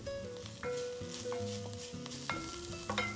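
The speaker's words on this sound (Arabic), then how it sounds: "أقلب البهارات ويا البصل" Ground cardamom, coriander and fenugreek are stirred with onion in a hot pan for butter chicken soup, a quiet sizzle and stirring faint beneath tonal background music.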